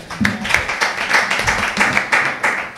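Audience clapping closes a morning program on business opportunities in the East African Community. The claps are individual and uneven rather than a dense ovation, with a few distinct hand claps ringing out over the scattered rest.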